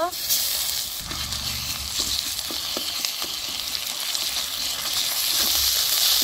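Garlic and ginger paste sizzles with browned chopped onions in a pan, a steady, close frying hiss with occasional stirring scrapes and soft clicks.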